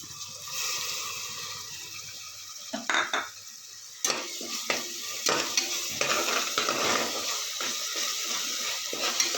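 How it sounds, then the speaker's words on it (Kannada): Ginger garlic paste sizzles in a pan for a bitter gourd curry while a utensil stirs it. Close frying hiss runs under irregular scrapes and taps against the pan, without voices. "ಇವಾಗ ಇದಕ್ಕೆ ನಾನು ಶುಂಠಿ ಬೆಳ್ಳುಳ್ಳಿ ಪೇಸ್ಟ್ ಹಾಕೋತಾ ಇದ್ದೀನಿ"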